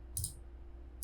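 Two short, crisp computer mouse clicks roughly a second apart, made while trimming lines in AutoCAD, close and distinct over a quiet, steady background hum.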